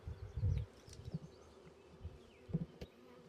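Quiet, low buzzing of many honey bees in a crowded hive colony close by, with soft irregular swells and faint bumps.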